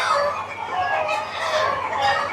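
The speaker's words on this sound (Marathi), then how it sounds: "माझाही समज होता की कोंबडे सकाळी आरवतात" A desi rooster crows and clucks at close range on a poultry farm, the loud, rough call filling the whole stretch with a couple of rising swells and no talk over it.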